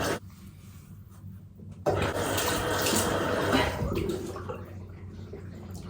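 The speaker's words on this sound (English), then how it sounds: "I'm just gonna rinse it off." Tap water running into a bathroom sink while a face is rinsed off after a skincare mask: a soft trickle that suddenly swells into a steady, close, splashing rush of water.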